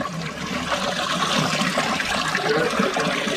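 Water gushes steadily from a public drinking-water pipe, a continuous splashing rush at close range with no voices.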